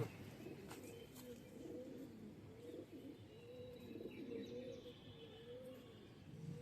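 Several pigeons coo in low, rolling murmurs that overlap continuously, with faint chirps of other birds in the background.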